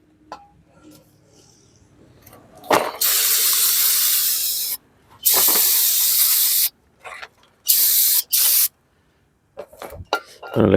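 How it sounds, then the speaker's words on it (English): Brake cleaner sprayed from an aerosol can onto the rear brake caliper and parts of a Nissan Pathfinder AWD, in several loud, close hissing bursts of one to two seconds each, separated by quiet pauses and faint clicks. "Let's go hit it with some brake cleaner."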